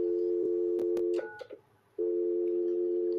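A telephone's speakerphone plays a steady, loud call-progress tone that runs on, breaks off briefly for a few keypad clicks and beeps, then resumes. It is heard alone with no talking.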